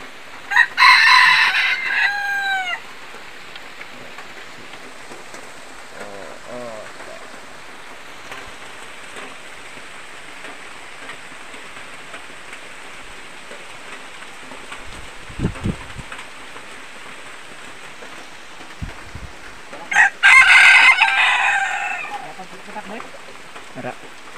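A rooster crows loudly and close by at the start and again near the end, with chickens clucking softly in between over a quiet, damp yard after rain, with occasional faint knocks.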